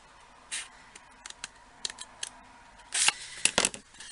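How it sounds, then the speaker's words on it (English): Several sharp snips from large scissors cut through stiff card, close and isolated, with a quick cluster of cuts near the end. "I'm going to get my larger scissors out to do this"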